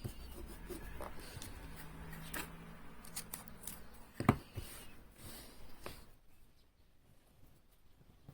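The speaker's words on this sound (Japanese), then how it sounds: "テープを使って各パーツを一つにまとめます。" Tape is wrapped around wooden parts to bundle them for cutting a cross half-lap joint with a kerf maker, giving quiet crinkles and short rips, a sharper tear near the middle, then near silence.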